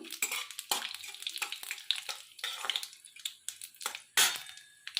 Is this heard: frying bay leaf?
yes